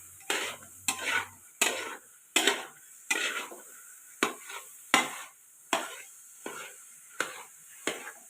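A spoon stirs thick carrot cheese halwa in a pan, making a regular series of about a dozen soft scraping strokes, each a short swish with a faint clink, close and otherwise quiet.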